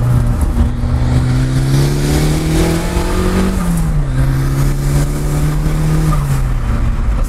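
Car engine with a straight-through exhaust revving loudly and close, pitch climbing in steady pulls, dropping back and rising again over a continuous rough drone, with no talking.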